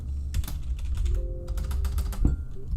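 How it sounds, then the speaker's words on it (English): Typing on a computer keyboard, close and fairly quiet, a steady run of clicking keystrokes with small pauses and no talk. "I will type a Trigglypuff in the chat."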